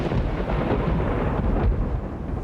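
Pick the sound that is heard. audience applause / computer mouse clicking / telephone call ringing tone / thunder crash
thunder crash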